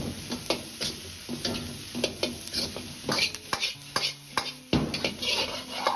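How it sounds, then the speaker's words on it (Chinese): Fatty pork intestines are stir-fried with seasonings in a wok, a sizzling hiss broken by irregular scraping and clanking of a spatula against metal, close and alone. "继续翻炒5-6秒钟，化开调料"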